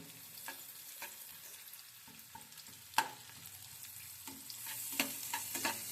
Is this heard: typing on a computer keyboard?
no